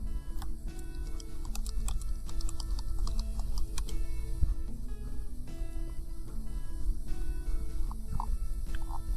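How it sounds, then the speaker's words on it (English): Fast, steady typing on a computer keyboard as a journal name is entered into a search box, with dense close key clicks running continuously throughout. "all we need to do is type the journal name in the search"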